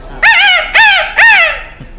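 A voice mimics a rooster crow in three loud, rising calls, each about half a second, evenly spaced with short gaps.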